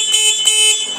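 A loud, close horn on a Farm Boss 200cc 4x2 UTV sounds in a couple of short honks running together, bright and brassy, with no talking.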